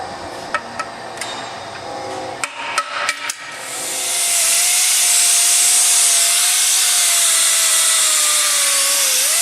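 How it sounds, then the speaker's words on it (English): Several sharp hammer blows knock old wheel weights off the wheel of a 2011 Ford Edge Limited, spaced unevenly over the first few seconds, followed by a loud, sustained hiss of rushing air close by. "Get the old wheel weights off of there."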